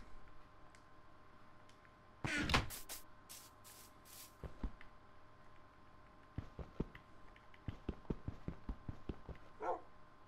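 Dog barking in Minecraft on PS4 Pro, a few sharp barks around the middle followed by a run of quick clicking ticks from gameplay, fairly faint and with no one talking.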